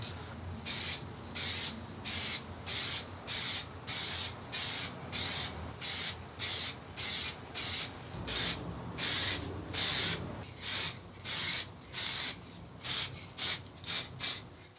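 Varnish sprayed from a can onto a dirt jump bike frame in short repeated bursts, each hiss close and loud with brief gaps between them.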